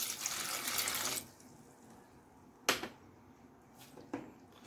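Water runs into a cooking pan for a pineapple gelatin dessert: a steady rushing pour for about a second, then quiet with a couple of brief splashes or clinks.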